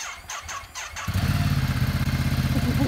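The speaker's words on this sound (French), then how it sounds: "La sonorité du moteur aussi." A motorcycle engine revs up after a second of quieter sound, then settles into a loud, steady, throbbing rumble close by.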